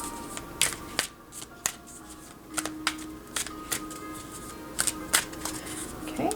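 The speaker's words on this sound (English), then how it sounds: "Okay, quick shuffle here." Dragon Oracle cards being shuffled, a run of quick crisp riffling bursts and soft taps repeating irregularly, close and fairly quiet.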